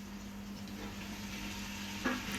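Onion, carrot and beans sauté in oil in a pan, a quiet steady sizzle with a low hum and one brief utensil clink near the end.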